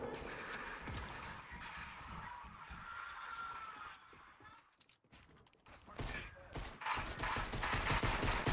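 Tommy gun fire in the video game Fortnite, a dense rattle of rapid shots mixed with vehicle-like rumble, dropping away briefly midway and then surging back loud, with voices under the action.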